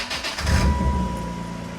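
A car's failing starter motor cranks as someone tries to start the car, giving a close, steady whirring grind with a thin whine running through it and no clean catch.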